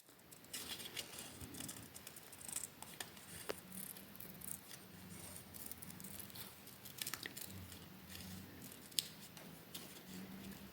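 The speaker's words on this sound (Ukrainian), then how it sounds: "Ножиці тримаємо на одному місці, а папір просуваємо." Scissors snip steadily through paper as circles are cut out for a children's craft appliqué, producing a run of soft, close, repeated cutting clicks with faint rustling and no talk.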